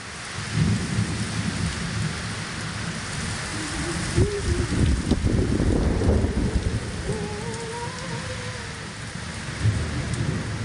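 Heavy rain pours continuously while deep thunder rumbles and swells in the middle, loud and close, with no talking.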